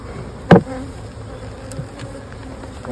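Many honey bees buzz steadily around an opened single brood chamber hive, with a sharp knock or frame bump early on cutting through the constant close hum.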